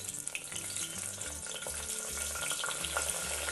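Stuffed brinjals frying in hot oil in a brass pot for a spicy curry: a steady, dense sizzle continues throughout, close and fairly loud, with no talking.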